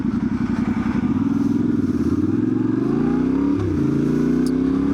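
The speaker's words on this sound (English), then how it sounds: "If you can hear the exhaust, that is because I took out the spark arrestor in it" A loud, raspy exhaust from a dirt bike with an R7 engine and its spark arrestor removed, burbling steadily up close, its pitch rising and falling as the throttle changes.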